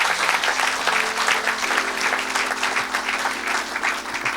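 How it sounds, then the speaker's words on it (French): A church congregation at a Sunday service applauds together to acclaim the Lord, a loud sustained burst of clapping from many hands that carries on steadily to the end, with no talk over it. "Acclamons le Seigneur."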